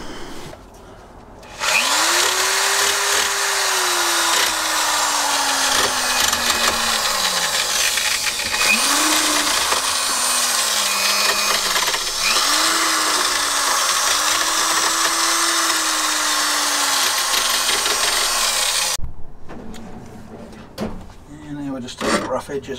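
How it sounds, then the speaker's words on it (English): A power tool smooths the rough metal edges on a Mangrove Jack folding kayak trailer kit, giving a loud, steady grinding roar for about seventeen seconds while its motor pitch dips and recovers several times, then cuts off abruptly. "Next job is the long one, which is filing down those rough edges."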